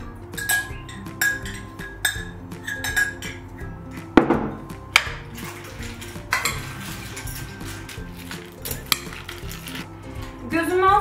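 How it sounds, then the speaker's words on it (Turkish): Cream and salmon pasta are stirred in a single pan, a busy clatter of utensil clinks and scrapes against the pan with a few louder knocks and a faint sizzle underneath. "Karıştırdıktan sonra kremamızı ekleyeceğim."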